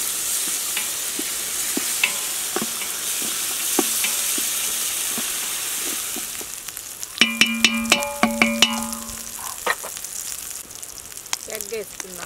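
Egg frying in a pan for village-style egg fried rice, a steady sizzle that sharpens after a few seconds, with bright metallic scraping and tapping of a spoon stirring against the pan.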